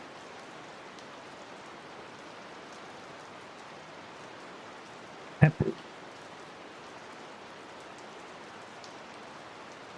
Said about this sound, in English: So listening to rain sounds